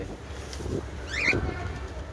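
Pigeons coo softly in low, throaty murmurs, with a brief bird chirp in between, against faint outdoor background noise.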